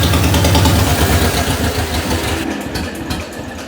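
An engine runs after a starter repair and fouled spark plugs were cleaned, a loud close rumble that is steady at first and then eases and fades toward the end, with no talking.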